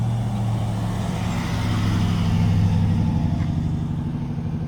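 A Harley-Davidson edition pickup truck engine drones steadily in low gear, loud and close, with a deep constant rumble that swells slightly as it passes.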